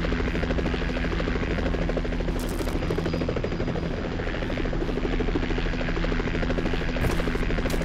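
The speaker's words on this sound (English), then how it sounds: "That chopper is really fucking loud." Helicopter in the horror game Condemned, a loud, steady rotor drone with a pulsing low thump that holds the whole stretch with no letup, close and dominant.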